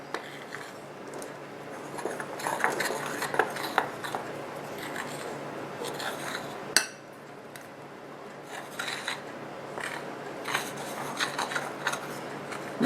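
Faux ice cream cone material is mixed in a bowl with close scraping and rubbing sounds. These come in irregular bursts with a brief sharp knock midway, and no voices.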